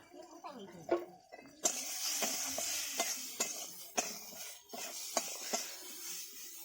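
Spices, turmeric and chili powder, frying in a pan: a soft sizzle under repeated scraping and stirring knocks of a spoon against the pan, fairly quiet and close.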